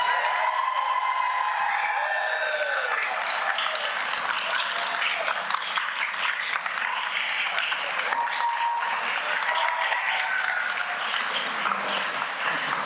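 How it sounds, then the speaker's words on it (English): Sustained applause from the audience at a Marysville Unified School trustees meeting honoring Educators of the Year nominees, steady dense clapping with some cheering that carries on throughout. "This is the time for pictures and major applause."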